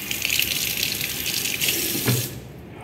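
Water streams steadily from a sensor-activated tap into a washroom sink, a close, even rush that swells briefly before cutting off near the end.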